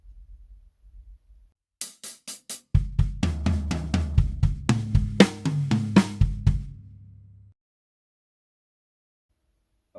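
Drum fill, played alone: a few soft low hits, then a dense burst of rapid snare, tom and cymbal strokes with accents, ending abruptly into silence.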